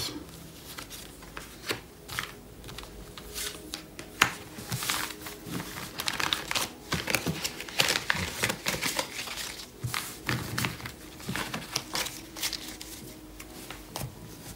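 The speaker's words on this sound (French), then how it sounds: "Alors voilà, on étale les cartes." Tarot cards being spread out across a table, a steady run of soft papery slides, flicks and crinkles with a few sharper taps, close and fairly quiet, with no talking.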